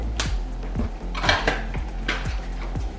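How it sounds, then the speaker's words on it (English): A utensil clinks and scrapes rhythmically against a bowl while hair dye is mixed, close repeated taps about every half second. "So mix that all up one more time."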